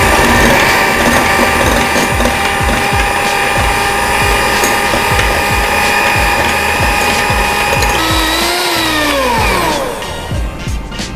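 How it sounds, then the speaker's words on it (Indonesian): A hand mixer at medium speed whips cake batter with emulsifier, a loud continuous mechanical whine with rapid rattling that winds down and drops in pitch near the end. "Saya menggunakan hand mixer"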